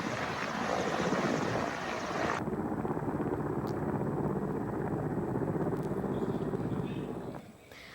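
A helicopter fighting forest fires in Uttarakhand gives a loud, continuous roar of rotor and engine noise that shifts in tone partway through, then holds steady before easing near the end.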